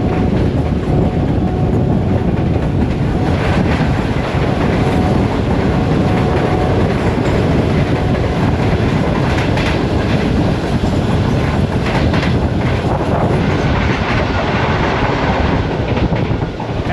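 The 47 Up Rehman Baba Express passes during a crossing at Sarshamir railway station, a loud, continuous roar of rolling stock with rail clatter and wind buffeting, sustained for the whole stretch.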